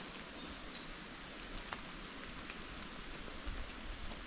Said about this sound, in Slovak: Prestalo pršať len tu v týchto lesoch, ešte stále vlastne prší, lebo zo stromov ako fúka vietor,